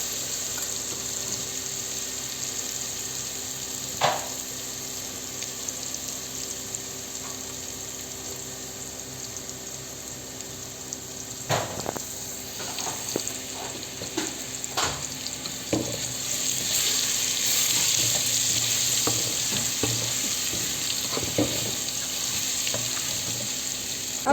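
Ginger garlic paste frying in oil for palak paneer, a steady hiss of sizzling with occasional sharp clinks and scrapes of stirring, growing louder and busier toward the end.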